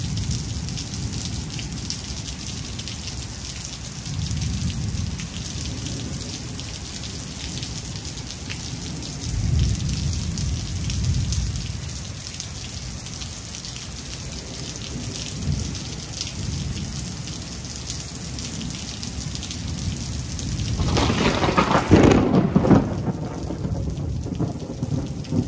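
Steady heavy rain pours down with low rolling thunder rumbling several times, a louder, closer thunderclap building near the end before the storm noise thins out.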